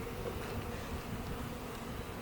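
Steady, dense buzzing of many honey bees, a continuous low hum that fills the whole moment without pause.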